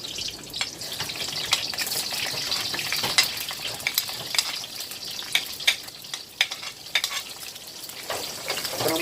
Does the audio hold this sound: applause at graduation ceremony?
no